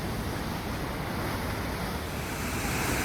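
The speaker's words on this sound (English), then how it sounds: "Enough water flows through here every minute to fill an Olympic-sized pool." Water rushes through Rogue Gorge in Oregon's Siskiyou National Forest, a heavy river flow making a steady, unbroken roar close by, with no voices.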